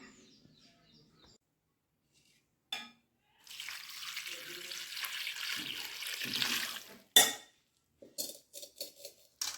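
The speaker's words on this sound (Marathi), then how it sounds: "आता ही भाजी आपण तीन चार पाण्यातून स्वच्छ अशी धुवून घेऊया" Amaranth greens being washed by hand in water, quiet and intermittent: a brief splash, then a longer stretch of running, sloshing water, followed by a few light clinks and splashes.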